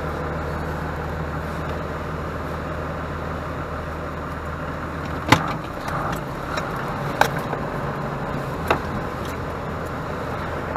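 A 12v Cummins diesel truck with an adjusted fuel screw drives up the road, its steady low engine rumble carrying throughout, with a few sharp knocks or clunks cutting in midway and near the end.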